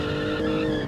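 Rubber tyres squeal on a Lego car in the racing sim Automation, a loud, continuous screech over steady engine noise throughout the short burst.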